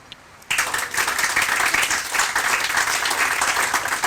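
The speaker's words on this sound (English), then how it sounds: "give them a big round of applause, please" A crowd at a groundbreaking ceremony at a steam plant breaks into loud, steady applause after a brief quiet moment, the dense clapping holding strong and close until the end.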